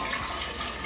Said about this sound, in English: I'm going to add my hot water to this base.